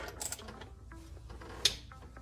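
Screws being removed from the engine bay of a Ford Mustang EcoBoost during a catch can install, giving faint, sparse mechanical ticking and ratchet-like clicks over a low hum, with one sharper click near the end.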